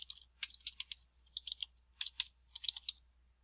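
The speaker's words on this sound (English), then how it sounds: "type in your name" Keys clatter on a computer keyboard as a name is typed, a quick run of close, light clicks in short bursts with brief pauses, alone without speech.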